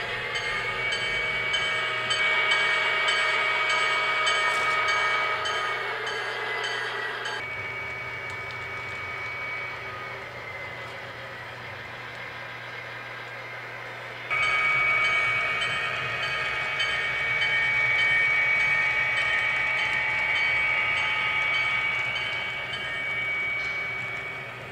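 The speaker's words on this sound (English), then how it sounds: "The local picks up a cut of cars assembled by the Oakland Yard master and heads east" A local freight train with a cut of cars rolls steadily past nearby, wheels rumbling and squealing on the rails in a continuous drone that swells and eases as the cars go by.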